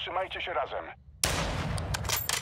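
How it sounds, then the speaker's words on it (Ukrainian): Gunfire from the video game Call of Duty Modern Warfare II erupts in a dense, loud burst of rapid shots after a brief speaking voice, continuing as sustained crackling fire to the end. "по ним теж стріляють"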